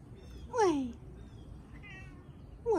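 A cat meows twice, each a short, clear rising-then-falling cry, close and fairly loud over quiet room noise, with a faint voice in between.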